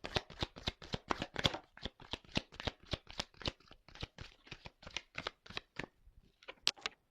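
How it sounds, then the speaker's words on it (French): Tarot cards are shuffled by hand at close range, a steady run of quick papery riffles and slaps for about seven seconds with no talking. "Bon, attendez, je prends les cartes."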